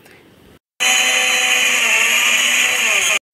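An electric blender whirs loudly and steadily for nearly three seconds, mixing mayonnaise with milk and sunflower oil, starting abruptly after a short quiet pause and cutting off cleanly.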